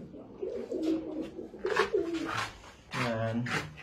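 Pigeons coo close by in soft, throaty, rolling calls, several overlapping, with a deeper coo near the end.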